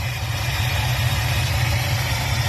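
A car engine fitted with a Holley or Edelbrock carburetor idles steadily, giving a close, continuous low rumble with an even pulsing beat and no speech.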